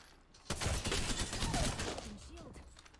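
A Spitfire light machine gun fires in Apex Legends, a sustained rapid burst of gunfire lasting over a second before tapering off, close and dense.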